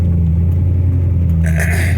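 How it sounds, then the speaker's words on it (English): A C6 Corvette idles or cruises with its NPP exhaust valves fully open, giving a deep, steady rumble that holds at one level with a slight brightening near the end. "Now the exhaust is fully open."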